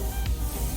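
A paint spray gun from a cosplay and prop-painting kit hisses in a steady, continuous spray with faint pulsing, close and moderately loud, with no voices.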